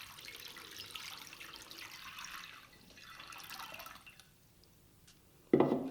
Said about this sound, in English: using a flat tray, fill it with water